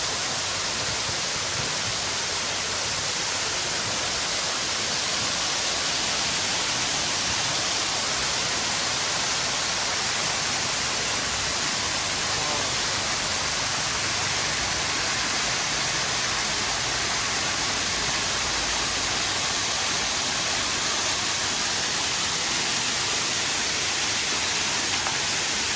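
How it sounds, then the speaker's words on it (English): A waterfall in a park roars as a steady broadband rush of falling water heard up close. It stays constant and unbroken throughout, with no voices. "let's show you this waterfall up close and personal"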